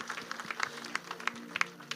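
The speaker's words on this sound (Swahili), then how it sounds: "Situpigie baba makofi mazuri." Applause breaks out at a church ordination service for a father, scattered claps building in brief bursts, moderately close and fairly light.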